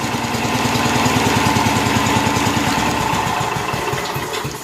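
A John Deere 210 lawn tractor engine idles smoothly and loudly up close, a steady throbbing putter with no other sounds.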